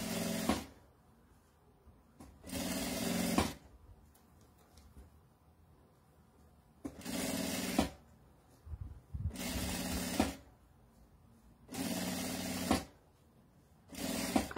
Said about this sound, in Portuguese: Costura na beiradinha aqui, só pro forro ficar preso.